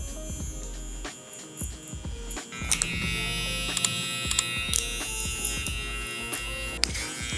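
Electric hair clippers with a number 2 guard and the lever open buzz steadily while cutting hair, the hum shifting slightly as strokes pass through the hair, with small clicks and no talk.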